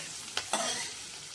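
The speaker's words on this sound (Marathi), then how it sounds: "कांदा परततोय" Onion sautéing in a pan for a green tomato vegetable dish, with a soft continuous sizzle and two brief scraping stirs, quiet and close, no voices.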